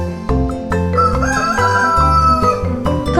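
Rooster crowing loudly and close, a drawn-out cock-a-doodle-doo over a backing of chiming music, with no voices.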